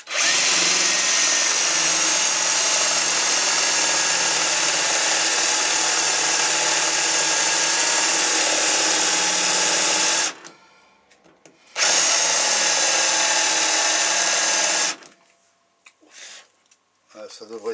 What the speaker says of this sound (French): À la mèche Fassner, comme ceci. On va en faire deux.